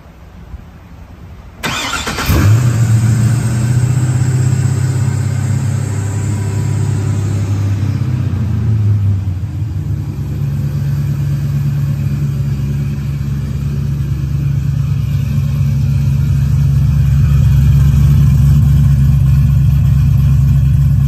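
An LS3 V8 in a 1967 Camaro cranks and fires up loudly after a short quiet start, then settles into a deep, steady idle that carries on close by with no talk.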